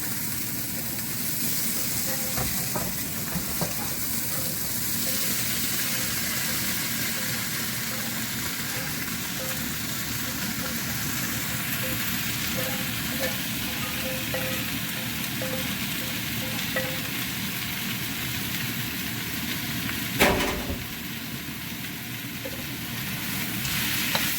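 Vegetables fry and are stirred in vegan Panang red curry paste, a steady close sizzle running throughout with a few soft stirring scrapes and one sharper clatter near the end.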